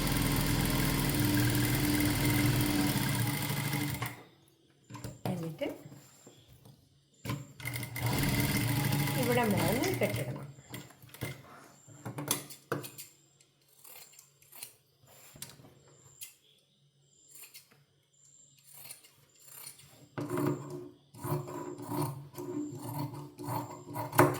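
Sewing machine stitching a cut coat, running in two long loud bursts of steady whirring mechanism, followed by quieter clicks and handling sounds.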